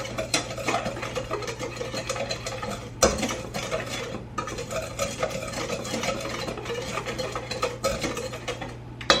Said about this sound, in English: I'm just gonna stir this together